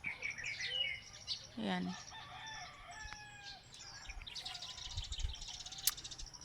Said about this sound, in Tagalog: Yan, ang daming ibon.